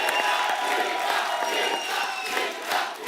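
A studio audience on a comedy talk show cheers and whoops for a singer, loud continuous crowd shouting and cheering with a musical tone underneath.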